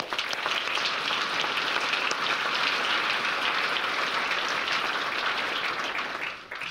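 A large audience at a Nampa State of the City address applauds steadily in a thick, even roar of clapping that holds for several seconds before fading slightly at the end.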